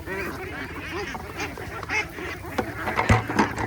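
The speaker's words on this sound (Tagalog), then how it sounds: "Lakas kumain mga itik." A flock of ducks feeding on grass and water spinach in the countryside, giving close, busy quacks and dabbling sounds in quick irregular bursts, with a little background noise.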